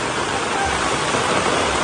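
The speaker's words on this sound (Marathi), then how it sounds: "एवढ्या पावसात" Dense, steady rushing of heavy rain pouring down, a constant broadband hiss with no pauses for the whole moment.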